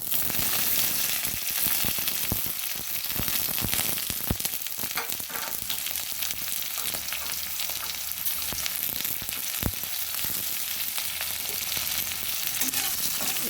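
Steady, loud sizzling of garlic and green chili frying in hot oil, a dense crackle that runs continuously with occasional sharper pops and no voices.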